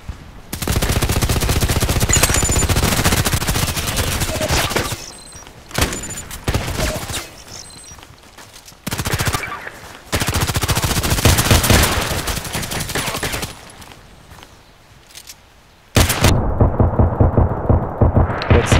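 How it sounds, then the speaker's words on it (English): SKS carbine fire in the Contract Wars shooter game comes in loud, close bursts of rapid shots separated by short pauses, with one more burst near the end. "I thought I could shoot through the wall at this moment."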